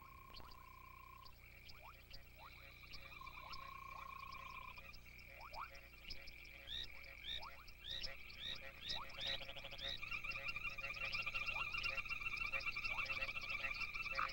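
Great gray tree frogs calling to attract mates, a chorus of repeated trilling croaks and pulsed chirps from several frogs overlapping and growing denser and louder over time, alone without voices.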